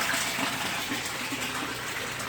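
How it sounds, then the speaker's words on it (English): Water from an aquaponics fish system pours steadily into a sump, driven by a submerged pump, a continuous close gushing, splashing wash with no talk. "So that nutrient-rich water gets dumped into the sump, and the pump pumps it to the beds accordingly."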